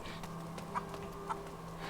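Chicken clucking in A Plague Tale: Innocence video game, a couple of short soft clucks over a quiet steady ambient hum.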